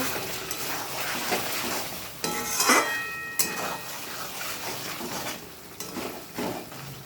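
Meat with spice paste frying in oil and being stirred, a close sizzle with repeated metallic scrapes and clanks of a spatula against the pan, several louder knocks scattered through; no speech.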